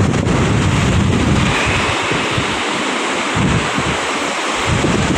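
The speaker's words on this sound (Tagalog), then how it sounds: "Medyo humina na po ng konti yung alon mga kapising." Strong typhoon winds buffet the microphone over steady crashing surf on Manila Bay during Typhoon Uwan in the early morning, a loud continuous roar with gusty low rumbles rising and easing, no voices.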